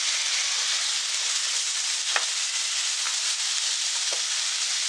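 Freshly washed green peas hit a hot spiced oil tempering for pulao and sizzle loudly and steadily, with a few faint knocks of stirring under the hiss.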